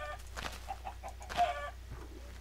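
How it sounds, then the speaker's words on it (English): An invincible chicken in a Minecraft map gives a quick run of soft, repeated clucks. They are fairly faint and come in short bursts over a low steady hum. "Leave that chicken alone."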